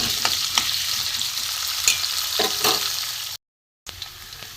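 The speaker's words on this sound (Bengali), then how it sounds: "আলুগুলো একটু ভেজে নেবো লাল করে।" Cut potatoes frying in oil for a pointed gourd and potato curry, a close steady sizzle broken by a few sharp stirring scrapes and clicks, with a brief silent gap near the end and no talk.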